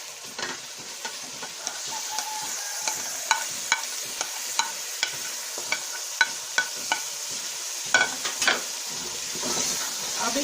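Green onions sizzle in a hot pan with tomatoes and chillies while a spoon stirs them, sharp scraping clicks and clinks repeating over a constant close frying hiss.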